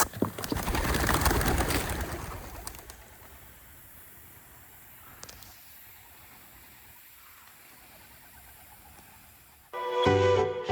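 Racing homing pigeons set loose from a basket for a loft fly on a fine day, a loud burst of wing flapping at the start, then quieter outdoor ambience, with another loud flutter close by at the end.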